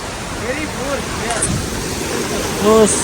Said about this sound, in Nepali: कति फोर्समा आएको है पानी है